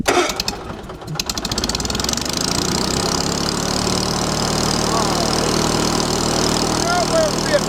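A small gasoline engine fired on corn gas with the choke pulled catches after a brief starting sputter, then settles into a steady, close idle that runs on alone.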